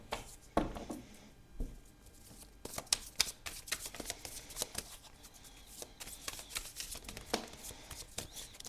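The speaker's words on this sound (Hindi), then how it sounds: "पल में ही कार्ड्स गिर भी जाते हैं भाई।" Tarot cards shuffled by hand at close range, with quick riffling patters and soft slaps as cards drop, in irregular bursts over a quiet background.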